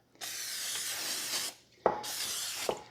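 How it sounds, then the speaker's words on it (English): Two long hissing bursts of cooking spray coat a casserole dish, the first lasting over a second, then a short pause, a click, and a second shorter spray, close and fairly loud. "So my casserole dish, you know, I think I might spray it just a little bit"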